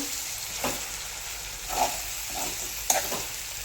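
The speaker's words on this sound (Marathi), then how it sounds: "आणि पहा किती छान असा कलेचा फ्राय आपला झाला आहे आता हा व्यवस्थित मिक्स करून घेते" Liver fry (kaleji) is stirred in a pan, a continuous soft sizzle with occasional scrapes and one sharp clink of the spoon against the metal.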